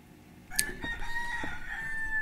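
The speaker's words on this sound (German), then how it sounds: "Warum auch immer er den Hahn hier rein hat, ich weiß es nicht." A rooster crows once inside Game Store Simulator, a sharp onset followed by a drawn-out, wavering call over a low background hum.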